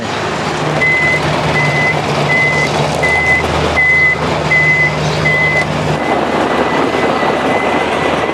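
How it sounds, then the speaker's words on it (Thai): A concrete mixer truck is being positioned for delivery to a customer. A loud engine rumbles under a steady series of evenly spaced reversing beeps, and the engine settles near the end. "จัดตำแหน่งรถก่อนครับตอนนี้"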